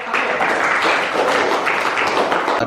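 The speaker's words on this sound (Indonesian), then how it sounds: "tepuk tangan dulu untuk" A classroom group claps for a student presentation during an Islamic studies lesson, a short burst of steady, fairly loud applause with no talking.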